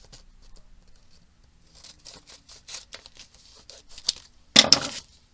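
A run of short crisp snips and papery scratches while trimming material for a journal page, quiet and close, ending in a couple of louder sharp cuts.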